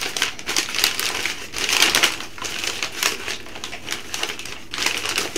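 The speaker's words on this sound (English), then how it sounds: "I'm going to very loudly unwrap it all for you." Shopping haul items from Hobby Lobby, Target and HomeGoods being torn out of their plastic and paper packaging, making continuous loud, close crinkling and crackling rustles with no talking.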